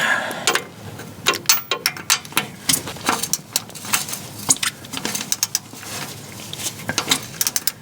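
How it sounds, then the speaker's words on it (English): A wrench clicks repeatedly as it torques a starter motor bolt to 30 foot-pounds under a GM Vortec 5.7L truck, giving sharp, close ratcheting ticks in irregular bursts with faint metallic clanks, and no talking. "Let me just torque it up"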